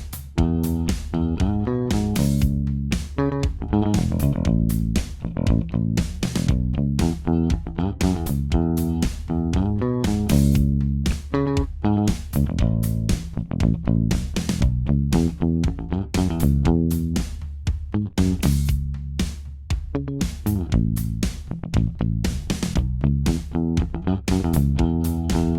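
An affordable Joe Dart signature bass guitar picked with a plectrum plays a busy, continuous riff of punchy low notes with a clicky bright attack, loud and up front.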